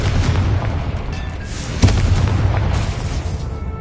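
A Confringo spell explodes in the video game Hogwarts Legacy: a dense, loud rumbling roar with a sharp boom near the middle, continuous throughout.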